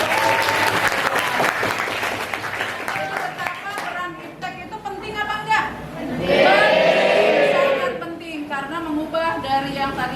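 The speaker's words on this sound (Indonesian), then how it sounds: "Oke, kasih aplaus." An audience breaks into sustained applause and clapping in a school supervision session, loud and continuous, swelling midway with some crowd chatter and a voice talking over it.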